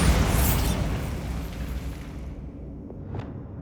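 Bombarda explosion spell cast in Hogwarts Legacy, a single loud, deep blast that rumbles and fades over a few seconds, ending with a short high whoosh as the echo dies away.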